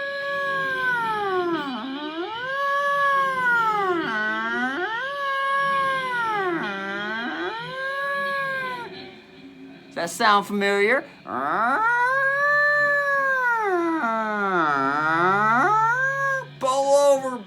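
A guitar imitates two cats yowling, with repeated high-low bending slides that wail and swoop like caterwauling, loud and sustained, broken by a short spoken question.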